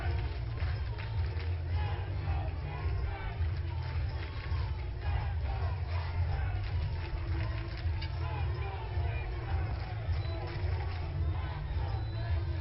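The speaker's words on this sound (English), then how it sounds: "The Sixers crowd has come out in numbers, and they are pumped early in this one." Fans of the Inland Empire 66ers fill a minor league ballpark at a South Division playoff game against the Rancho Cucamonga Quakes, with a steady, dense roar of crowd voices and cheering that holds throughout.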